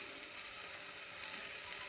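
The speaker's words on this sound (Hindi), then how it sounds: "अब मेरी मसाला भी भुन जाएगा, तो कुछ देर में, थोड़ी सी देर में मसाला भुन जाएगा" Masala for a fish curry sizzles and fries steadily in a pan, a soft, even hiss with no talking.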